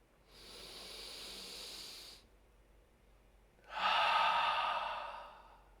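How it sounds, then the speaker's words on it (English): Two long, breathy exhales during a guided breathing exercise, each one close and airy, separated by a short pause, with the second one louder and fuller. "Let go on the exhale."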